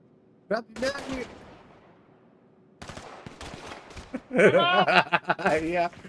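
Bursts of rapid gunfire ring out in a Grand Theft Auto robbery mission, separated by a short lull, with excited voices talking and laughing over the shots.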